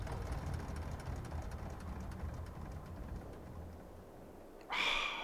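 The engine of a tractor in Farming Simulator 22 shuts down, its low rumble steadily fading over several seconds. A brief, brighter hiss or clunk sounds near the end. No one speaks.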